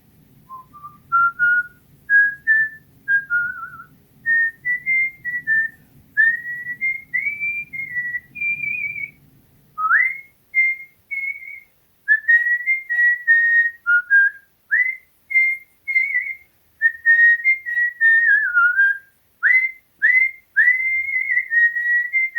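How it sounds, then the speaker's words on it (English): A person whistles a traditional tune slowly and alone, clear sustained and gliding notes in phrases separated by brief pauses, close and steady, with a soft low rumble fading out partway through. "So that little tune that is played really slow when I whistle"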